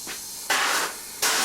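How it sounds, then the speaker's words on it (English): An aerosol can sprays paint into the box-section voids of a camper van, with three short hissing bursts: a faint one first, then two loud close ones separated by a brief pause. "I sprayed in as much paint as I could into the voids in the box sections"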